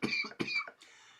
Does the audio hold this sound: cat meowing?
no